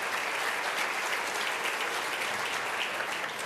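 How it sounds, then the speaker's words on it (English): Large audience applause at a U.S.-Africa Leaders Summit address, a dense continuous roar of many hands clapping, steady and even for the whole stretch with no talk over it. "Please give them all a round of applause."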